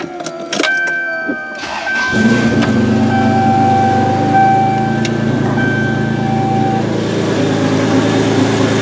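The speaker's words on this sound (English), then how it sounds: "But it still starts and runs." An old rewired truck's engine catches after a few clicks and short bursts, then idles steadily and close up with a rough low rumble while faint high electrical tones come and go.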